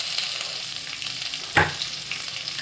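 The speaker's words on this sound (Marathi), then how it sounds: "तेलामध्ये असं परतून घ्यायचं" Ridge gourd sautés in a little oil with a steady close sizzle, broken once by a sharp scrape or clatter of a spatula stirring in the pan.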